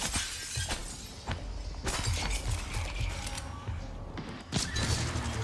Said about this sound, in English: Can I break away enough glass?